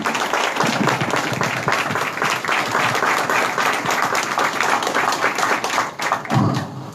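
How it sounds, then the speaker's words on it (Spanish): Loud, dense applause from a crowd at a political gathering, the Encuentro Federal de Economía Popular, sustained without a break for the full seven seconds and briefly swelling near the end. "Un fuerte aplauso"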